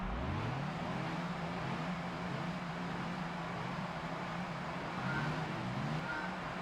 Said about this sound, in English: You hear those other cars on the limiter?